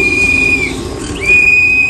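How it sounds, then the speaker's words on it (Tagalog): A man's loud, sharp whistle calling pigeons down, held for about half a second, a brief pause, then a second long whistle, shrill and close over faint background noise. "Sumisipol po yung lokman niya."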